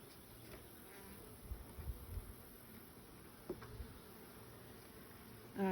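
Honeybees hum and buzz around a hive, a soft continuous drone with individual insects flying close by now and then.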